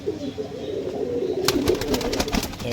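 A pair of Dhanyabela pigeons, male and female, cooing softly and continuously with low murmuring calls, joined midway by rustling and flapping.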